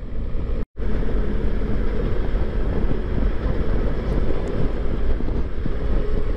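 A motorcycle rides along a good road in the French Alps at about 100 km/h, with a steady engine drone and heavy wind rush, briefly cutting out near the start before continuing unchanged.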